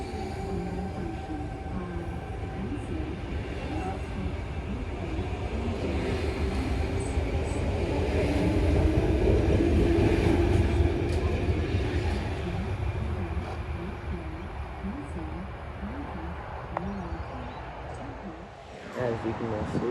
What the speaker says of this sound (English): The next train to arrive on platform 2